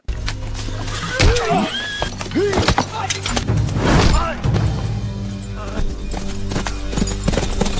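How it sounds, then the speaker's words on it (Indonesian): Hooves of a mounted cavalry unit clatter in a film chase into a forest, mixed with horse whinnies and dramatic soundtrack effects, fairly loud and busy, with some vocal sounds in the mix. "Ia dikejar oleh pasukan berkuda sampai memasuki hutan."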